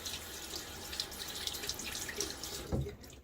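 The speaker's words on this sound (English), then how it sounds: "I'm going to keep adding a little bit more water." Water trickles and splashes from a tap or syringe into a shaving soap bowl of slick Stirling soap, a faint continuous drizzle with a brief louder splash near the end.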